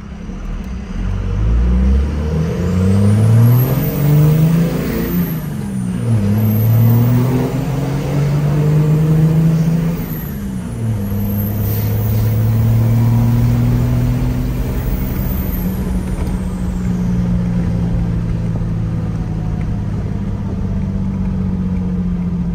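A second-generation 24-valve Cummins diesel pickup accelerates hard from a stop toward 60 mph, its loud rumbling engine rising in pitch through several gear changes with a turbo whistle over it, steady and close.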